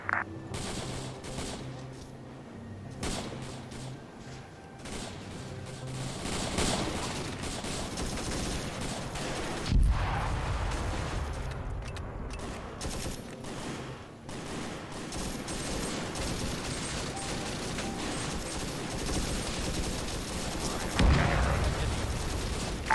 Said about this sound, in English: Mortars are a bit close there, boys.